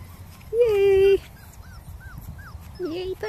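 Five-week-old Norwegian Buhund puppies make a drawn-out high whine, then a run of short rising whimpers and yips, close by and with a person talking nearby.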